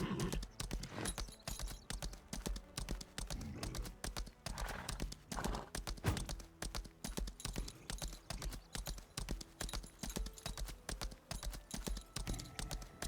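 Horse hooves clip-clopping in a steady, brisk rhythm while riding in the video game Lost Ark, close and continuous with game ambience underneath.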